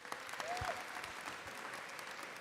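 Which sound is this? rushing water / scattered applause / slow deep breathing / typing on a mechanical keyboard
scattered applause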